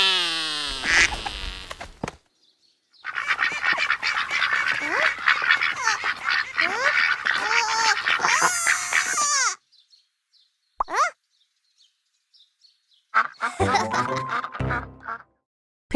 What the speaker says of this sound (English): If it looks like a duck and quacks like a duck, it must be a duck.